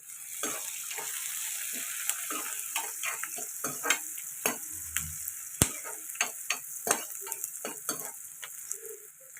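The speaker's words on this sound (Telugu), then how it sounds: "ఉల్లిపాయలు ఇలా ఫ్రై అవుతున్నాయి కదండి." Onions and curry leaves fry in a pan with a steady sizzle, broken by repeated sharp scrapes and clacks of stirring, close and fairly quiet.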